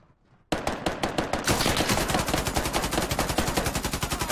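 Video game gunfire bursting in after a brief quiet moment, a loud sustained automatic stream of rapid evenly spaced shots that keeps going.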